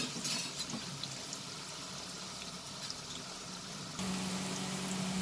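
Okra (bhindi) fries in hot oil, a quiet continuous bubbling hiss that steps up slightly louder partway through, with a faint steady hum underneath.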